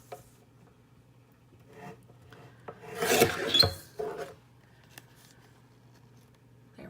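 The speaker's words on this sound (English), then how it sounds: "trim this top edge just a little bit to cut off the top of the lamination" A blade or trimmer rasps across the laminated top edge of a scrapbook page, a few soft scraping strokes building to a louder cut near the middle, then quieter rubs in a quiet room.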